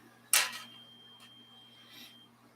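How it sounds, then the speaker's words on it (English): A single small metallic clink of loose metal thumb screws rings out sharply, then a faint second tap follows in an otherwise quiet room. "Sorry for the dinging noise."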